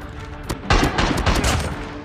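Gunfire in the mobile shooter game Call of Duty Mobile: a sharp single shot, then a dense burst of rapid automatic fire running for over a second, loud and close with no talk over it.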